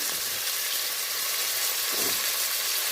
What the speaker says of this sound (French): Là, je fais compoter mes oignons. نقلي البصل.